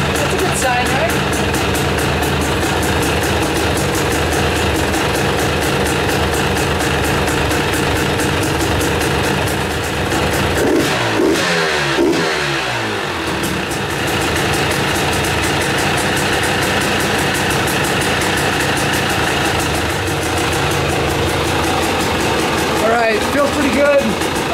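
A 2021 Husqvarna TX300i two-stroke dirt bike fitted with an RK Tek head starts and runs at a steady, close idle for the full stretch, with a brief throttle blip midway.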